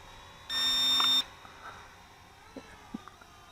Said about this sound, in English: when you enter headless mode, it beeps a few times to let you know that you've entered headless mode